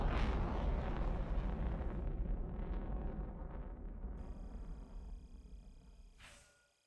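A missile striking the ground in the War Thunder video game, a deep rumbling explosion that booms loudly at first and then slowly fades out over several seconds.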